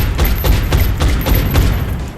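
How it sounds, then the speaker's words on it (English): A long-range shotgun blast in the X-Com video game comes as a loud rapid burst of repeated cracking reports over a dense, noisy game backdrop. "A shotgun blast from long range"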